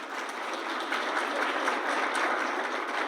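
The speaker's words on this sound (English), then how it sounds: "Give them a round of applause." Steady applause from an audience at an evening museum lecture, moderately loud and even throughout with no voices on top.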